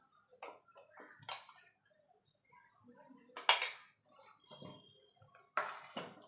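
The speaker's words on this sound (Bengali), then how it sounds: "দিয়ে ভালো করে মিশিয়ে নেব" A spoon mixes ground roasted spice into a raw mango drink, making sparse, close clinks and taps against the vessel with quiet pauses between them.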